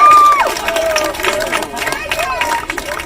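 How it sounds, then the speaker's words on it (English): A street crowd cheers and calls out as people come down from a bridge during unrest, a broad roar of voices with whistles and shouts rising and falling continuously at close range. "People cheering at him from coming down."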